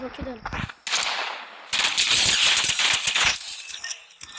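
Rapid bursts of gunfire from a new-season pistol with a gold Midas skin in a battle royale video game, loud and dense shots in clusters with brief gaps between them.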